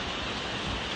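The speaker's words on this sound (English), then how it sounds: "with the rain distracting me" Steady rain falls close by, a dense even patter filling the whole moment with no voices over it.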